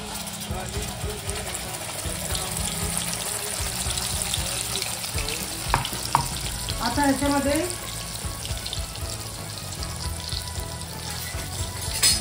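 Ground masala paste fries in a pan for a fish curry, a steady close sizzle and crackle with a couple of sharp clinks from stirring, and a voice talks throughout.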